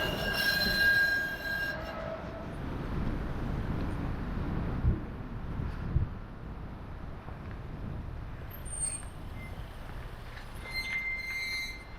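A tram rolls past close by, its wheels squealing in high metallic tones over a rumbling, rattling run that slowly fades as it moves on.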